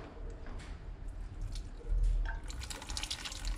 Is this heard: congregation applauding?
no